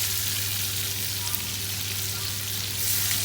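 Thin strips of potato fry in a pan of oil and butter with a steady, dense sizzle. The crackle is close and continuous, with no voices over it.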